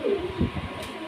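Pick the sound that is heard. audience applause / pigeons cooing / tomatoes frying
pigeons cooing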